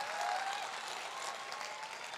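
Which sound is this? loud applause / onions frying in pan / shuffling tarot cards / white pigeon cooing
loud applause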